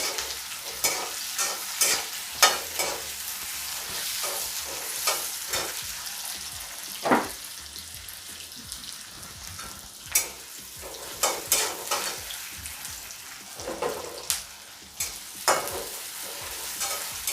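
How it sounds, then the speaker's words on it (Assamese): Onions sizzle steadily in a hot pan, with frequent scraping and clinking strokes of a spatula breaking through the frying hiss. "মই কাটি থোৱা পিঁয়াজখিনি ইয়াতে দি একেলগে ভাজি ল'ম।"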